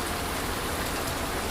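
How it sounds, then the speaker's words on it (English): Steady rain falls continuously outside, a dense even hiss of drops that fills the scene from start to finish with no other sounds. "The rain outside kept falling"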